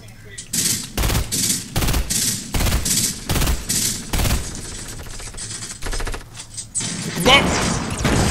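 Rapid bursts of Fortnite gunfire crack out in quick succession, loud and close, a rhythmic string of sharp shots over roughly eight seconds, with a voice shouting briefly amid the shooting.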